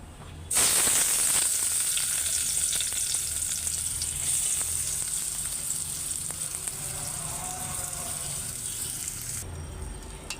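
Onions and bay leaves frying in hot oil, a bright steady sizzle starting sharply and holding evenly, close and moderately loud, then dropping away at the end, with no talk.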